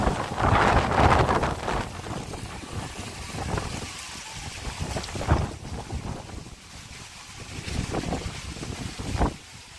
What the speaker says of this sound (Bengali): লিটারেলি এখন প্রচণ্ড হাওয়া,